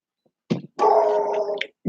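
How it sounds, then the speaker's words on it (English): A dog gives a short bark followed by a longer, drawn-out yelping bark and then the start of another, close and fairly loud against an otherwise quiet background, with no talk. "That's my dog. He barks at fucking flies."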